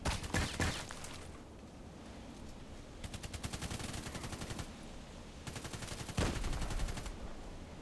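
DT SRS sniper rifle fired in a video game: a few heavy single shots, then two rapid strings of evenly spaced rounds, loud and close with no talking.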